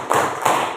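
A classroom group of students claps in unison during a lesson, two sharp collective claps ringing out close and loud, the second following about a third of a second after the first.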